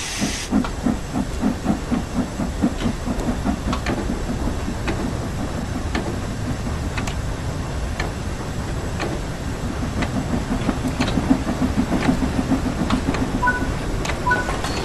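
Steady, loud hiss of steam venting from the open cylinder cocks of a steam locomotive in Train Sim World 5, with faint rhythmic chuffing pulses underneath throughout.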